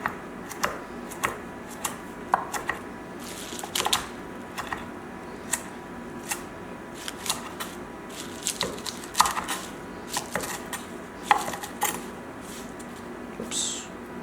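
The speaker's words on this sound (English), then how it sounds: "So you just hold your knife like this, one end on here, and the handle, and you just double chop." Knife double-chopping kale leaves on a cutting board, a series of irregular crisp thuds and taps, close and moderately loud, with pauses between bursts.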